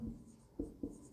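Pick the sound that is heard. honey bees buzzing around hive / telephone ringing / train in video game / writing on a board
writing on a board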